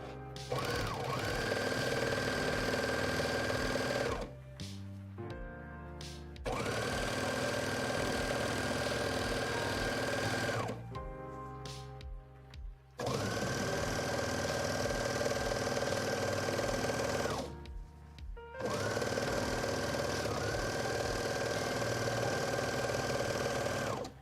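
A sewing machine stitches two rug pieces together in long steady runs of rapid mechanical whirring, stopping briefly three times between bursts, loud and close with no talking.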